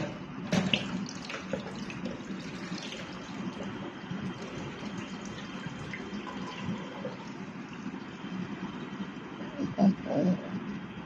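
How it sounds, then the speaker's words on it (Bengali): Taro leaves are rinsed under running tap water in a sink, a steady moderate splashing and trickling with a few louder splashes near the start and end. "রিপিট করে আবার একটু জল ভরে নিচ্ছি।"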